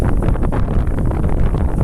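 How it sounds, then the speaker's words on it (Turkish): Strong wind across an open field buffets the microphone in a steady, loud, rumbling roar with gusty fluctuations and no voices. "Burası çok rüzgarlı değil mi Eslem?"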